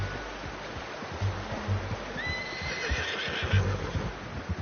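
A horse whinnies in Red Dead Redemption 2 over a steady outdoor wash of ambient noise, with soft hoof clops and rustling in the background.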